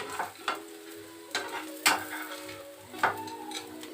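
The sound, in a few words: veg burger tikki patty frying in a pan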